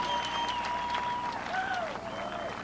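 Crowd applause and cheering build at a beach volleyball championship final in Huntington Beach, a steady broad wash of clapping heard under a commentator's voice.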